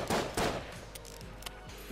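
Magnum pistol shots in the video game Enter the Gungeon: two loud, close blasts in quick succession open the sequence, followed by quieter clicks and game effects.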